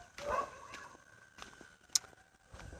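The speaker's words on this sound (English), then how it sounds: "Oh, dogs are barking." Dogs barking at a distance, a few soft, irregular barks and whimpers in a quiet room, with a faint shuffle of movement.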